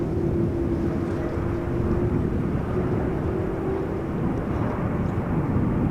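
A Boeing 787 Dreamliner arriving at Amsterdam Schiphol Airport produces a steady, loud low engine roar with a faint whine, continuous and unbroken throughout, with no voices present.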